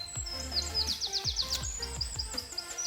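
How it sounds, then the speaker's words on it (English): Birds chirp and trill repeatedly in the woods, with bright rapid song phrases close by over a low steady rumble of footsteps and ambient noise. "hear those birds."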